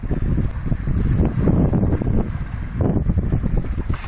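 Steady trade wind of about 15 knots from the east-northeast rushes and buffets over a sailboat on an Atlantic crossing, a loud continuous roar with low gusty rumble and no talking.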